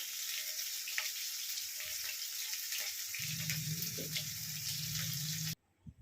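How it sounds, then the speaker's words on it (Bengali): Chicken pieces seasoned with salt, ginger and garlic sizzle steadily in hot oil for Chicken Manchurian, a constant close hiss with a low hum coming in partway through before it cuts off abruptly. "এভাবে আমি সবগুলো ভেজে নিয়ে ফেরত আসছি।"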